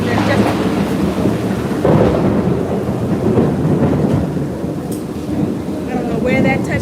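A heavy, rolling rumble of thunder from a nearby lightning strike, heard from inside a streetcar during a rainstorm; the loud, dense roar lasts for several seconds with rain noise, and a voice is faintly present.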